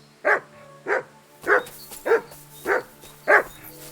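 Mutt the dog barking in Kingdom Come Deliverance II, six evenly spaced loud barks ringing clearly over a low steady in-game hum.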